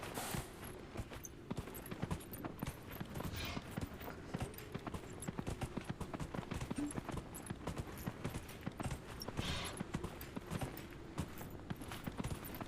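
Horse hooves clip-clopping in a video game, a fast continuous patter of hoofbeats at a steady gallop, moderately loud and unbroken under low background game sound.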